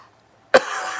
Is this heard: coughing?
yes